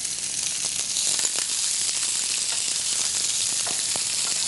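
Chopped onion hits hot oil with whole garam masala in a pan, a loud, even, close hiss with occasional small crackles and no talking.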